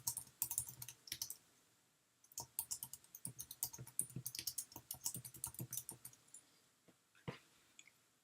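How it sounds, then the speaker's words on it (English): Rapid, irregular clicking of fingers typing on a computer keyboard, close and fairly quiet, in bursts with short pauses, with no talking. "Next, I type in my project name."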